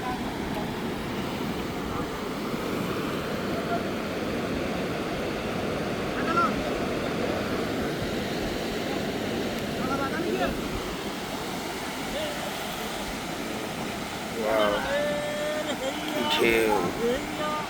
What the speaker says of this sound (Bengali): ঢেউ